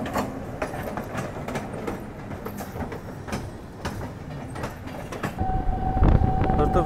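A double-decker express train running from Delhi toward Jaipur, heard from on board as a steady rumbling roll with rhythmic clickety-clack over rail joints, rising toward the end with a sustained metallic squeal.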